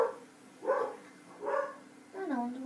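A pet dog gives three short barks or yips indoors, each rising in pitch, the last one drawn out into a whine. The sounds are moderately close and fairly quiet.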